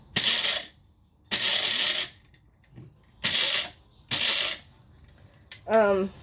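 Several loud bursts of a coffee grinder crushing beans, each lasting under a second with pauses between, followed by a short higher whirring burst at the end.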